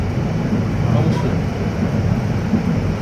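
Cox's Bazar Express passenger train rolls along, a steady low rumble and rattle from inside the carriage throughout, fairly loud and continuous.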